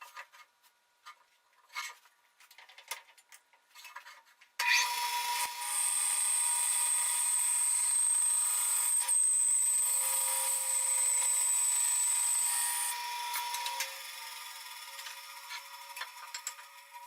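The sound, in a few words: bandsaw cutting a wood board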